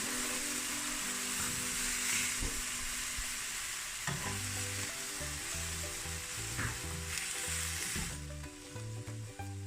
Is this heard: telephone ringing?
no